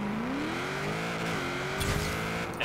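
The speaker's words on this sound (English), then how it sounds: "you just let go of the clutch and the e-brake while having the gas pressed all the way down" A car launches in a drag race in the video game Forza Horizon 4, rear-wheel drive: the engine drones steadily with a rising, wavering pitch, and brief bursts of noise near the end.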